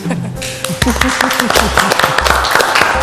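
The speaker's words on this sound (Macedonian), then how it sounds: "Не е за аплауз, не завршив." Clapping from a studio audience at a cooking reality show rises after a brief pause and carries on briskly, mixed with a voice speaking over it.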